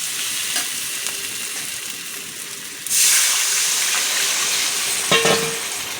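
Water is poured into spiced potatoes sizzling in a pan for a Bengali fish curry with eggplant. A steady frying hiss gives way to a sudden louder gushing surge, and the bubbling continues after it.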